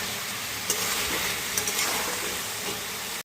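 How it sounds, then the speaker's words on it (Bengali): Country chicken and fried potatoes sizzle as they are sautéed and stirred in a pan, a dense close hiss with a few light scraping clicks, then an abrupt stop. "এখন ভাজা আলুগুলো দিয়ে আরেকটু সময় কষিয়ে নেব।"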